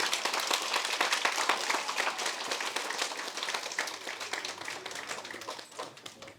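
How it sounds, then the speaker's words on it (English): An audience at a local government forum claps steadily, a dense even patter of many hands that holds at the same level throughout. "So let's give him a big round of applause"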